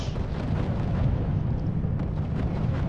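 Deep rumbling blast from an aerial bombing in the strategy game RUSE, a heavy sustained low boom rolling on loudly through the whole moment.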